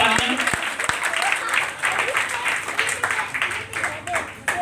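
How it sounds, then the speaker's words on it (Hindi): A hall audience at an organisation's foundation day ceremony breaks into sustained applause, dense clapping with a few sharp individual claps early on, while faint voices carry underneath. "तो इनके लिए भी एक बार जबरदस्त तालियां।"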